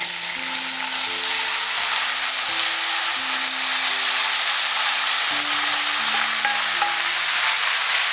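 Cooked drumsticks with onion and curry leaves stir-frying in a pan for thoran, a loud continuous sizzle close by with faint scraping as the mixture is stirred.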